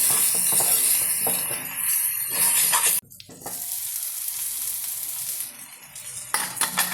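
Ivy gourd fries in a pan with turmeric for a Kerala-style roast, stirred with a spatula. A loud, steady sizzle carries scraping stirs and a sharp clatter midway, then a quieter hiss.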